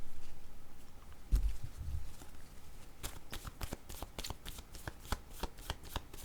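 Tarot cards being shuffled by hand: some soft handling first, then a rapid run of crisp riffling flicks, close and dry, with no talk.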